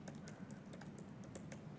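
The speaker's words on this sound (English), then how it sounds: "typing in front of an audience is probably one of the most times I make typing mistakes" Computer keyboard typing during a live GitHub Projects planning demo in front of an audience: quick, irregular clicks of keystrokes, moderately close, alone without talking.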